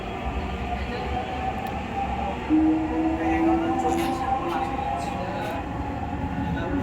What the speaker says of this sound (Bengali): এই যে মেট্রো ছেড়ে দিছে